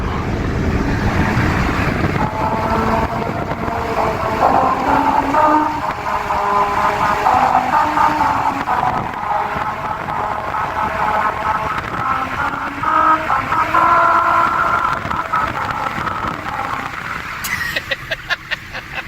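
A BMW drives fast at about 55 mph over a grooved musical road, a steady roar of tire and wind noise carrying a faint tonal melody that rises and shifts through the pass before fading near the end.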